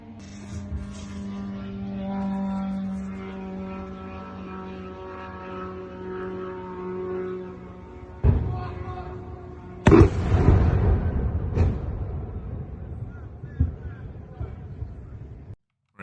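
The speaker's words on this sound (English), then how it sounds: "I've got a couple of videos of explosions over here" Drone attack explosions in Ukraine war footage: a sharp blast strikes midway, then another heavier boom with rumbling aftermath, after a stretch of steady droning engine hum, heard from a distance.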